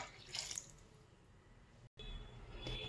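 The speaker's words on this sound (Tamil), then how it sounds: "இப்போ கொஞ்சம் தண்ணி ஆட் பண்ணிக்கலாம்." Water is poured into mutton curry cooking in a pot, a soft splashing pour near the start followed by quieter liquid movement, faint and close with no talking.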